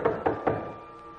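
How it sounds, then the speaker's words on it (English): Three quick knocks on a wooden door in a period drama, evenly spaced and fairly soft, followed by a short quiet tail. "Sophie, see who knocks"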